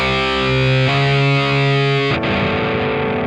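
An electric guitar with heavy distortion, tuned one step down, rings out sustained chords that shift once, then changes to a choppier, grittier tone near the end, loud and alone with no talk.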